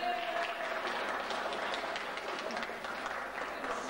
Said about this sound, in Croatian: Evo jedan aplauz za Svetoga Nikolu i za sve vas.